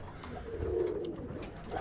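Pigeons coo in an aviary, a low rolling murmur that swells in the middle and carries on steadily under faint background noise.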